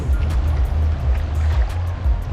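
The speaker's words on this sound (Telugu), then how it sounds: "ఇక్కడ ఈ చెరువు చిన్నగా ప్రవహిస్తుంది, కానీ సముద్రంలో కలుస్తుంది" A small shallow stream meets the sea at Ashvem Beach in Goa, with a steady rushing, lapping wash of water and a low surf rumble, close and continuous, and no talking.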